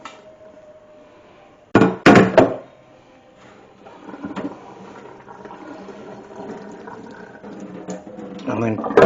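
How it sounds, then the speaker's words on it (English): Cooked spaghetti is drained from a hot pan, with a clatter of metal and a splash as the water pours out, followed by a steady rushing trickle building up. A voice talks faintly underneath. "we're just going to drain all of our pasta"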